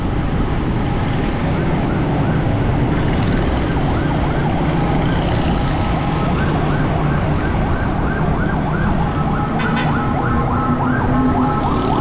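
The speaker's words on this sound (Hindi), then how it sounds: "तेज़ी में जा रहा है एम्बुलेंस वाला।" A loud ambulance siren wails continuously as it passes through busy traffic in Karachi, with road noise throughout.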